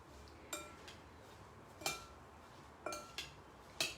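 Mushroom larb ingredients stirred together in a bowl, a spoon clinking against the dish four or five times at irregular intervals, sharp and close, over a soft background hiss.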